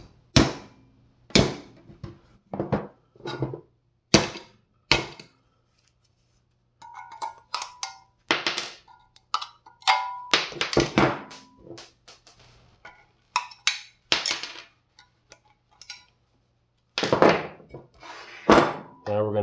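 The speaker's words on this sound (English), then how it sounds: "we're going to knock out the other one on the other side" Sharp hammer blows knock out the concentric knockouts on an outer side of a metal electrical box, repeated impacts in irregular bursts with pauses, loud and close, with metallic rattles between strikes.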